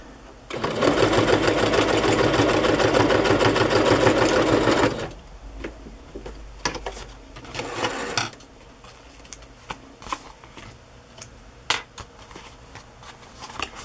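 Sewing machine stitching pages for a Christmas junk journal, a loud steady mechanical whir with a rapid needle rhythm for about four seconds, then stopping and giving way to quiet paper handling and small clicks.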